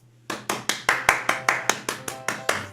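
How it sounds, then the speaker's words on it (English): Eleven evenly spaced, crisp hand claps from a single person, close and fairly quiet, keeping a steady beat with no voices. "Applause to all of you."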